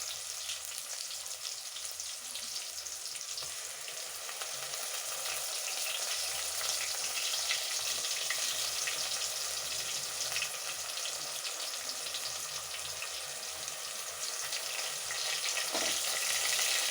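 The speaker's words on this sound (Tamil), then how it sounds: "வெங்காயம் நல்லா வதங்கி வருது பாருங்கள், நல்லா எண்ணெய் பிரிஞ்சு வருது." Ground large onion paste with garlic sautés in hot oil for a Tamil fish curry, a steady broad sizzle and crackle running continuously and fairly close, with faint stirring and a brief watery splash near the end.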